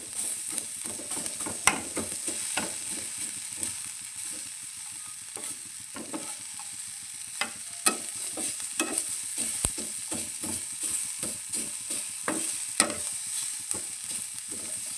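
Dried fish fries in oil in a pan as it is stirred, giving a continuous sizzle broken by frequent sharp scraping and clinking strokes of the spatula, close and moderately loud.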